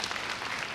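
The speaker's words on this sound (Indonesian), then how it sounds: "Boleh tepuk tangan buat Tuhan Yesus?" A church congregation at a Sunday worship service claps briefly, a faint, quick burst of scattered applause heard from a distance.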